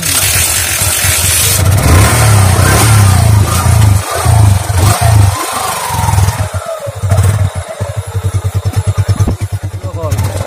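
A motorcycle engine close by revs hard several times, rising and falling loudly, then settles into a fast, pulsing idle.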